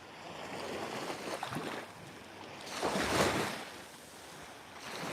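Sea waves wash ashore at Can Picafort, Mallorca, in a soft steady surf that swells into a louder breaking rush near the middle, with some wind noise over the microphone and no voices.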